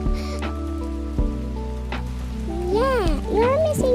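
Rain falls in the Avatar World video game as a soft, steady patter in the background, with cartoonish voices and musical tones playing over it.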